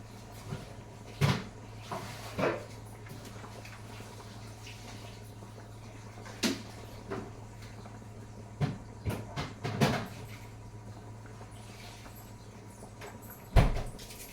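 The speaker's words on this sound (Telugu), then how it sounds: "గిన్నెలు శబ్దం అవుతుంది" Occasional metallic clanks of thick, heavy cooking pots, a few scattered knocks over a low steady hum, fairly quiet and spaced apart.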